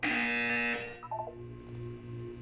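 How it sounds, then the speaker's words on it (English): A loud, steady electronic buzzer drones in the Portal 2 test chamber for under a second, then cuts off. Faint electronic tones and a low hum follow. "When you hear the buzzer, look down at the floor."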